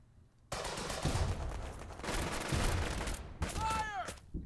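Gunfire during an infantry assault in the WWII tactics game Burden of Command: sustained rattling volleys and machine-gun bursts, loud and dense, ending with whistling, ringing tones.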